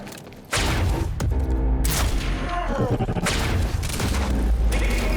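Gunfire and heavy impacts in the video game Quantum Break, with loud bursts of shots and booming hits packed tightly together, shouting voices mixed in.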